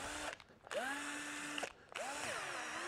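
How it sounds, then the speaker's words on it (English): A battery drill with a low charge bores an 8mm hole through a rusty garden spade's handle and the glue inside. Two whining bursts of the motor are heard close up, separated by a short pause, with no talking. "So I'll grab a drill and a drill bit."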